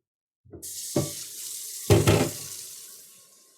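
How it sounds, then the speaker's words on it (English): Tap water runs steadily into a cooking pot being filled to boil ravioli, starting abruptly with a couple of louder splashing surges as the stream hits, then settling into an even rush that slowly fades. "So I'm gonna go ahead and just fill this pot up"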